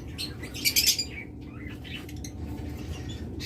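Caged pet birds at a bird seller's chirp and squawk in short bright bursts, loudest early and then scattered and fainter over a steady low background hum.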